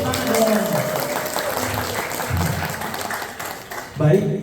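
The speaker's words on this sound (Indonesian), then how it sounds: "Beri tepuk tangan dong" Audience applause for a guest at an Indonesian village tourism news segment, a steady broadband patter lasting the whole stretch with voices talking over it.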